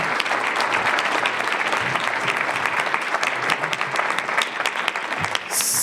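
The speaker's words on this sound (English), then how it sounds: "let's give these guys another round of applause" Audience at a biodiversity conference panel applauding the panelists, full, even clapping sustained for several seconds, close and loud.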